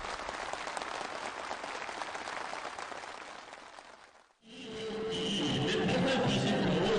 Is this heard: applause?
yes